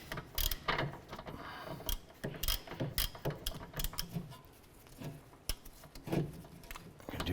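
A ratchet wrench clicks as a bolt is tightened on the rear wheel hub of a 2008-2012 Honda Accord, with bursts of close, sharp metallic ratcheting in irregular strokes and brief pauses between them.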